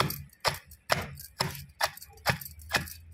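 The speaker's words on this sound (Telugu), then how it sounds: "మంచిగా దంచుకోవాలి. ఈ విధంగా" Ingredients being pounded fine with a pestle: seven sharp, close thuds at a steady, unhurried rhythm about half a second apart, each with a short crunchy knock and little else around it.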